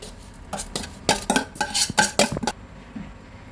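Blended seasoning paste being mixed into fish in a metal bowl, a run of sharp clanking scrapes and knocks from a utensil against the dish, close and loud, then stopping abruptly.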